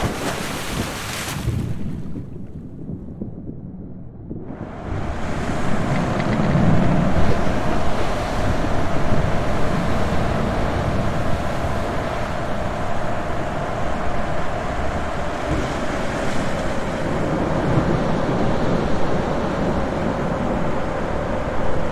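Ocean waves and surf in the VR game Memories From Beyond A Coral Sea: after a brief hush near the start, a steady, loud wash of breaking surf and wind-blown spray rolls on continuously, with no voices.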